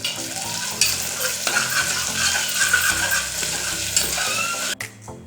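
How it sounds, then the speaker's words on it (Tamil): Ginger and garlic sauté in a pan for mutton bone marrow soup, a continuous loud sizzle with stirring scrapes and a clattering knock near the end. "இஞ்சி பூண்டோட பச்சை ஸ்மெல் போகிற வரைக்கும் நல்லா வதக்கி விட்டுருங்க"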